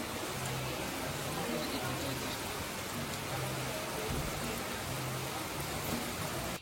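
Steady, dense rain in Mexico's Yucatán hisses without pause, a continuous wash of drops with a faint low hum beneath it.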